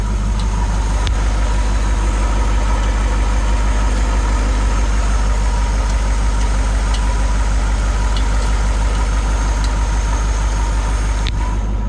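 A 1940s Pontiac straight-eight engine idles steadily up close, a loud, even low rumble with a regular pulsing beat held throughout, with only faint occasional clicks.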